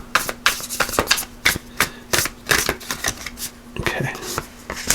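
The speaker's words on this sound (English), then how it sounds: "I'm just getting a little too wild and shuffling" Tarot cards being shuffled by hand during a reading: a quick run of crisp, close papery riffles and slaps in uneven bursts, with a steady low hum underneath.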